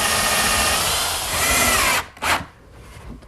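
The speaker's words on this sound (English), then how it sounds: "Now I'll just pre-drill some holes for some 1 5/8" A power drill pre-drills holes for 1 5/8 screws in a woodworking shop, whining steadily for about two seconds before stopping, followed by a short burst and faint handling noise.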